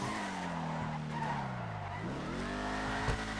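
A Vapid Dominator ASP muscle car in GTA 5 Online brakes hard with a long, loud tire squeal that sweeps down in pitch, under a droning engine.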